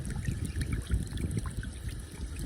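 Water trickles from a hose into a mobile supply setup for a sheep paddock on a farm, a close, steady splashing dribble with no talk over it.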